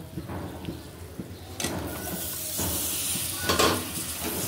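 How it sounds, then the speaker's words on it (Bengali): Spice paste with coriander powder and tomato fries in a pan for a prawn dish, a close steady sizzle with bursts of steamy hiss and soft scraping as the mixture is stirred. "টমেটোটা দিয়ে দিলাম, একটু নাড়িয়ে ছাড়িয়ে তারপর কষতে দিন"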